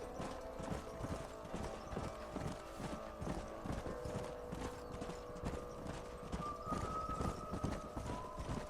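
Horses' hooves clip-clop steadily in the Red Dead Redemption video game, a dense, continuous rhythm of many hoofbeats at moderate distance, with a faint whinny and game ambience mixed in and no talking.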